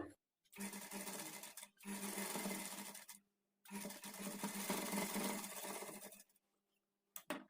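A sewing machine stitches the side seams of a blouse in three long bursts of loud, steady whirring, broken by short pauses between runs.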